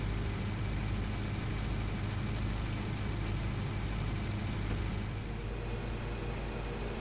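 A farm tractor's engine drones steadily as it drives back to the farm in a farming game, a constant low hum with road noise and no breaks throughout.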